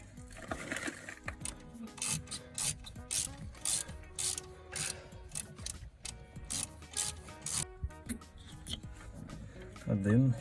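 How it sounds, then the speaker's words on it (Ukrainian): Ratchet fitted with an H8 hex socket works on the brake caliper bolts of a Renault Megane 3, giving repeated bursts of close, crisp clicking with short pauses between strokes. "Беремо H8 шестигранник, вставляємо ось сюди."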